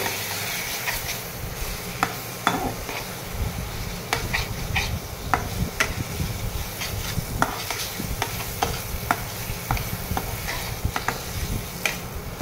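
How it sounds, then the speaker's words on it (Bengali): Spice paste sautéed with a little water in a pan for an ilish fish head and taro leaf dish, a steady sizzle broken by frequent scraping stirs and clinks of a spoon against the pot, close and continuous. "মশলাটা আবারও আমি একটু কষিয়ে নেব।"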